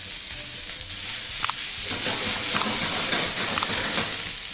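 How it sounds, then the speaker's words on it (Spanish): Green beans, carrots and red pepper strips flambé in a hot pan beside pork belly, a steady loud sizzle and hiss with roaring flare bursts and occasional stirring clatter, no one speaking. "ahora vamos a flamear"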